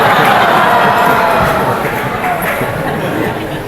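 Loud, dense applause and cheering from a comedy show audience at the Maui Arts and Cultural Center, a steady wash of clapping and crowd noise that slowly fades, with voices mixed in.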